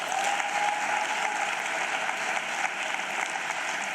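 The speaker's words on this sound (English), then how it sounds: "Another round of applause, please." Sustained applause from an audience at a matric results announcement ceremony, dense and steady for the whole stretch with no voices standing out.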